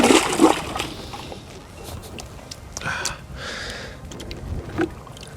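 A phone in a leather strap is plunged into a bucket of water, with a sharp splash at the start followed by softer sloshing and bubbling, close and fairly loud.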